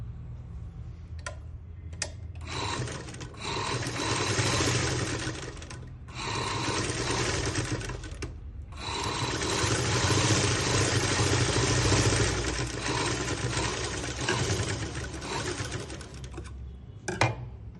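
A sewing machine stitches a folded front button placket for a shirt. Loud, fast mechanical running comes in long bursts, broken by brief pauses and a few clicks.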